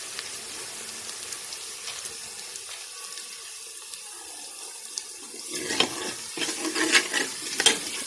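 Cumin seeds go into garlic frying in oil for daal maash, and a soft sizzle swells over the last few seconds after a quiet start.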